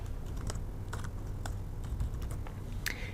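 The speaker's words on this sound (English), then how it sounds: "I'm going to type Mary Poppins" Typing on a computer keyboard while entering a search term, with a steady run of light clicking keystrokes over a constant low background hum.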